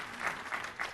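Conference audience applause, a steady wash of clapping with a few swelling peaks, moderately distant and fairly soft.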